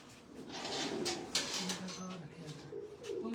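Several pigeons coo steadily at a loft in Jinnah Garden, Islamabad, their low rolling calls layered at moderate volume with brief rustling and no clear talk.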